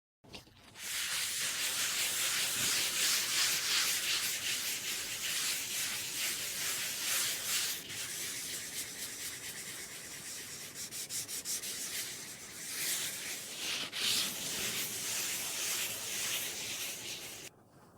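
Old furniture being rubbed down with an abrasive sponge during a shabby-chic restoration, a steady, close scratchy sanding hiss that runs continuously with slight rhythmic strokes and no talking.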